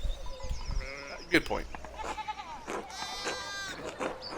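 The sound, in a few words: sheep bleating in Pentiment video game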